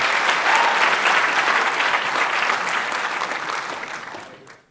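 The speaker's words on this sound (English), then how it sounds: "Big clap." Lecture hall audience at a public science and cooking lecture breaking into loud, dense applause from many people, sustained and close, then tapering off and fading out at the end.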